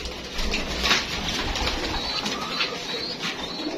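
A young pigeon coos softly and repeatedly, fairly close, amid a hissy background with faint rustling.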